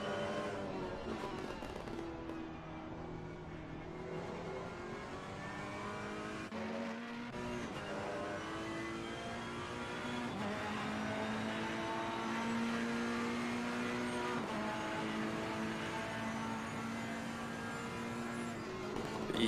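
A race car howls around the Nurburgring in Assetto Corsa Competizione, its steady engine whine rising and falling through gear changes with a brief dip midway, continuous and fairly loud.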